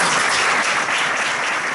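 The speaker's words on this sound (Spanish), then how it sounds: "Acojamos a Marco con un caluroso aplauso." Lecture audience in a Spanish hall welcoming a speaker with steady, dense applause, loud and continuous throughout with no voices over it.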